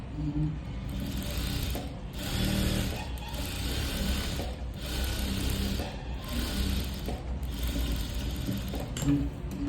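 A sewing machine stitches the side seam of a blouse with a steady, close mechanical whir, broken by brief pauses in a regular rhythm that runs throughout.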